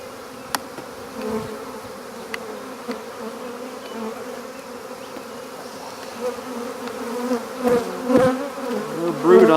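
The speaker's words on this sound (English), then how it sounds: "There's just a metric ton of bees in here." Honeybees buzz in a dense, steady drone inside an open, crowded beehive during a spring inspection, with a few close bees passing nearby and growing louder toward the end.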